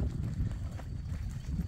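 A very tame, roped ranch horse moves about, its hooves giving a steady, close, low clip-clop with a busy rumble of outdoor noise.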